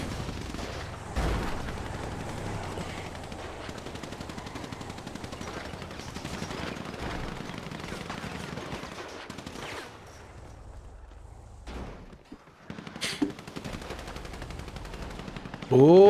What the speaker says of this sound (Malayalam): ഹംസ കഞ്ഞിക്കുഴിക്ക് നല്ലൊരു വെടി കിട്ടി.